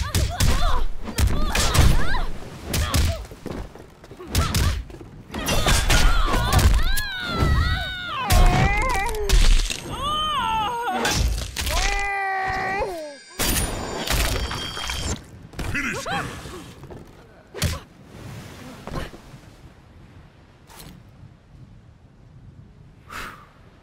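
A Mortal Kombat X fight with Cassie: punches, kicks and body thuds land in rapid bursts amid fighters' grunts, gasps and effortful cries, with whooshing special-move effects midway, all tapering off toward a quieter end.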